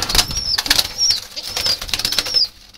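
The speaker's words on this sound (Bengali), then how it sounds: "জালালি কবুতর আছে এখানে।" Jalali pigeons flap their wings close by in several quick, loud bursts, with brief pauses between the flurries.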